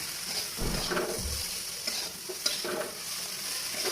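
Soybean chunks coated in spices frying in a pan, a continuous close sizzle broken by several stirring scrapes, with no talking.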